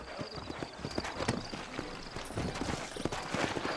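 Horse hooves clip-clop in a steady trotting rhythm, close and clear, with ambience around them in the video game Red Dead Redemption on Xbox One.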